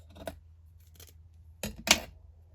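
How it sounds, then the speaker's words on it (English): Scissors snip through paper or fabric being trimmed for journal toppers, a few quiet crisp cuts in a sparse pattern with two sharper snips near the end. "Now, just going to cut that one down."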